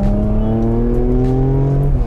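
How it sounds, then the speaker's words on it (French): A Porsche Macan S engine revving hard in manual mode, its loud steady note climbing in pitch as it pulls through the revs, close up inside the car without a break. "On peut aller jusqu'à 7000 tours et la voiture s'essouffle pas."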